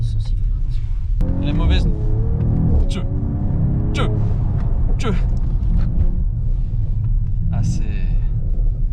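A 2020 Mercedes-AMG GT 4-door gives a loud, close engine rumble with a rising rev and sharp exhaust pops, while someone talks excitedly over it.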